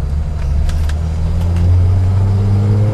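A rare Datsun 240Z sports car engine runs steadily up close, then its tone rises as the driver revs it midway, with a low, rumbling exhaust note throughout.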